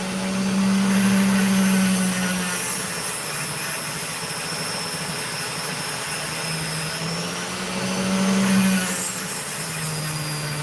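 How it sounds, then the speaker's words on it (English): A continuous whirring grinding wheel with a high, gritty edge, swelling slightly louder at times as opal is pressed against the wheel and cut. "that's the sound of good opal that I'm hearing here"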